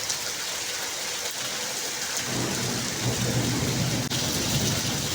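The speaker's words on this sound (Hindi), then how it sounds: "बहुत तेज़ बारिश हो रही है" Heavy, steady rain pours down in a dense hiss, joined midway by a low, rumbling roll of distant thunder.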